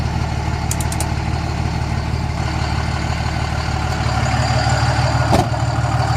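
A diesel pickup engine idles on a 12-valve tune, a loud, steady low rumble with an even throb running throughout, heard up close with no voices.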